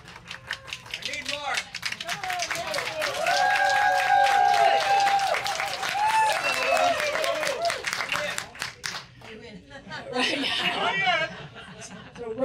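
A small audience claps at a CD release performance, mixed with lively chatter, laughter and whooping voices, then drops off near the end while people keep talking.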